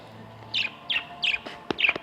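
Belgian canary and Australian parakeet give a string of bright, short chirps, about five quick calls in two seconds, fairly close and clear over a quiet background.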